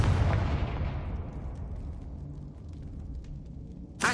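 A Confringo blasting spell explodes in Hogwarts Legacy: one loud, close boom that decays into a long fading rumble with faint crackles, then a sharp new burst right at the end.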